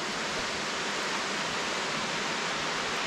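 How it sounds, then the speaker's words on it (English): A big waterfall at Ash Cave in Hocking Hills gives a steady, faint, broadband rush of falling water, unbroken and heard alone at a distance. "You can see that big waterfall on the far side."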